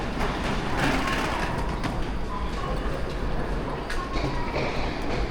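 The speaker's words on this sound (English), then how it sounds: "You see how long the train is." A long train pulls into a station in Tokyo, giving a steady, loud rumble and rattling clatter of wheels over track for a few seconds, with no voices over it.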